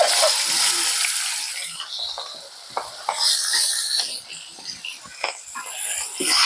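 Chopped onion and a whole green chilli hit hot oil, giving a bright, crackling sizzle that flares loud at first and then spits and pops irregularly, with faint stirring, and no talk.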